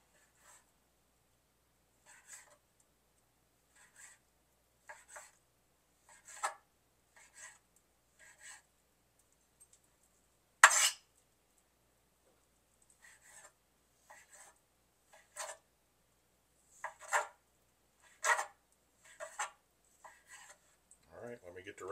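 Knife cutting food into quarter-inch slices, a string of short, quiet scraping chops spread unevenly with brief pauses between them and one sharper louder cut near the middle.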